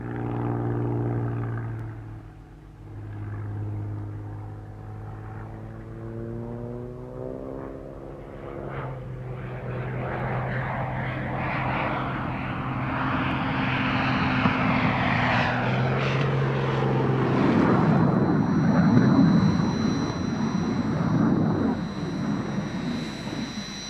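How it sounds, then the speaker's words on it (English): A Cranfield A1 propeller aeroplane flies aerobatics at an air display, its engine droning and shifting pitch as it climbs and dives, growing louder and rougher toward the end. "Eric Steenson demonstrates aerobatics in a more mundane aeroplane, the Cranfield A1."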